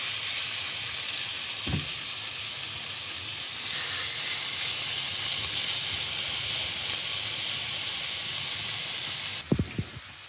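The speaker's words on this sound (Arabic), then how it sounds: "راح نقلي البطاطا وبنزل الشاورما على الزيت الحامي" Shawarma meat and potatoes frying in hot oil in a pan give off a steady loud sizzle and hiss, with a brief clatter near the start and a few sharp knocks near the end.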